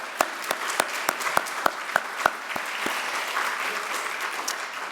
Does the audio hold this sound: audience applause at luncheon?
yes